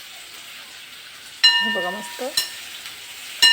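Green val bean pods hit hot oil spiced with red chilli powder in a home kitchen tempering, setting off a sudden loud sizzle and spatter with stirring clatter, under a woman's brief speech.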